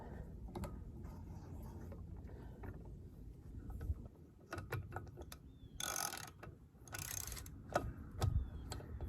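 Lug nuts are run down and snugged by hand on an RV wheel, giving faint ratcheting clicks, metallic ticks and creaks in short bursts with pauses between, close but quiet.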